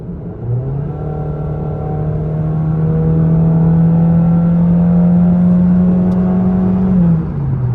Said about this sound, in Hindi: सबसे पहले आप गाड़ी की आवाज़ चेक करें।